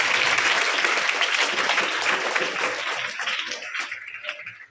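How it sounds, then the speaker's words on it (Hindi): An audience claps loudly for a student performer at a school motivational seminar, dense continuous applause that starts full and gradually thins and fades over a few seconds, with no voices over it. "जोरदार तालियां गरिमा के लिए।"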